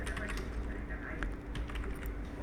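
Rapid clicks of a computer keyboard being typed on nearby, steady and fairly quiet, with soft background noise and speech partly overlapping.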